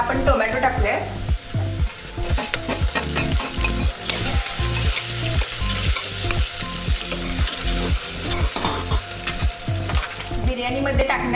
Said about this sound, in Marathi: कांदा थोडा भाजत आलाय, त्यानंतर आपण टोमॅटो टाकूया।